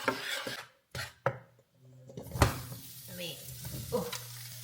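Vegetables drop into a pan of hot spiced oil, giving sudden bursts of sizzling followed by a steady frying crackle with stirring and scraping, fairly quiet and close, with a low background hum.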